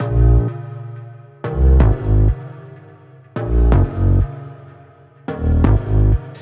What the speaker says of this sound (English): And that's the bass. Sounds like this.